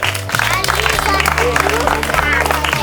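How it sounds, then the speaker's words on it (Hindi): A village crowd at a football challenge applauds a winner, with steady clapping spread throughout over a music bed and a little chatter. "चलिए जोरदार ताली मारिए इनको लिए"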